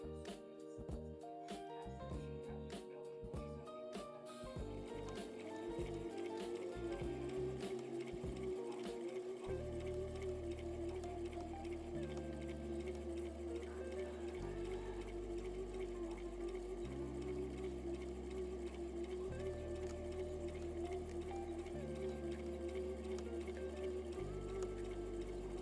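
A sewing machine runs a straight stitch through fabric in steady bursts of rapid mechanical clatter, starting and stopping several times, close and clear with no talking.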